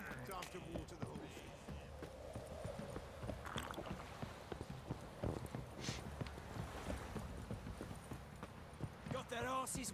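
Horse hooves clip-clop in The Witcher 3 game, a steady walking rhythm of soft hoof falls heard under continuous game sounds and someone talking over the top.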